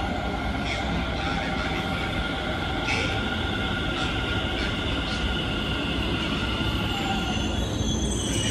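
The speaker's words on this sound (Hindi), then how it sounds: "फाइनली मेट्रो आ चुकी है।" Delhi metro train pulling into a station, a loud continuous rumble of wheels on rails with high squealing and hissing tones running throughout as it arrives.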